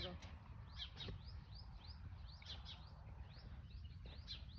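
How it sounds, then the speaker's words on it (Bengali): Repeated high bird chirps ring out in quick, uneven bursts in a mango orchard in Oman over a low rumbling background, fairly faint and a little distant. "পাখির আওয়াজ কি ভালো লাগতেছে"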